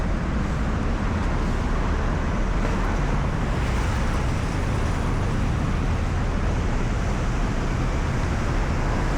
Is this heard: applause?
no